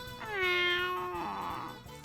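Stray cat in the visual novel If My Heart Had Wings lets out one long, clear meow, then a shorter falling second meow. Both are close and alone, with no talking.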